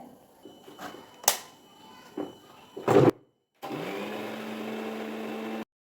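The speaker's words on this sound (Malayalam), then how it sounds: "കുറച്ച് മഞ്ഞൾപ്പൊടി, കുറച്ച് മുളക് പൊടി ചേർത്ത് ഇത് രണ്ടും കൂടി അരക്കട്ടെ." A few clicks and knocks come first, then a mixer grinder whirs at a loud, steady pitch for about two seconds, blending coconut with turmeric and chilli powder for mango pulissery, before it cuts off abruptly.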